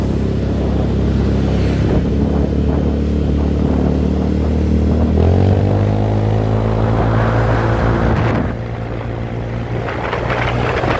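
Yamaha Freego 125 scooter with a 59mm bore-up, ridden gently on a wet road during a test ride, its engine droning steadily then rising in pitch as it accelerates, close and loud, with rushing road noise.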